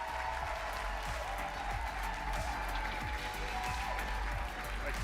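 Audience applause fills a conference hall at a global business forum as a company executive is welcomed on stage, a steady, dense wash of clapping holding at even loudness throughout.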